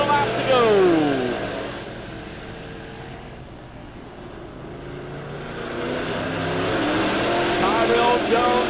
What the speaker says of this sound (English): We've got some good racing in the TJR Racing late models.